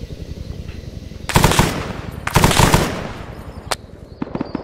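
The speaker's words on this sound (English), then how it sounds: "Can you get one of your machine gunners to fire three bursts so we can get a bearing on your location" Machine gun in the Vietnam-era Arma 3 SOG Prairie Fire game fires three loud, sharp bursts, each roughly half a second long, spaced about a second apart, with a faint distant shot afterward.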